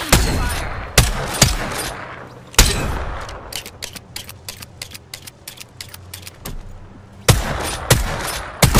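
Enemy gunfire in Apex Legends: sharp bursts of shots crack in close clusters, with a rapid string of lighter pops in the middle, all alone without talk.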